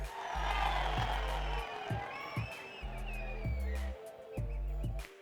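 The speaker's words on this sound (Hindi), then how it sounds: "आपकी जोरदार तालियों के बीच" Loud applause from a large crowd at a Prime Minister's public event in Jammu, a dense sustained clapping wash with cheering, punctuated by deep booming thumps throughout.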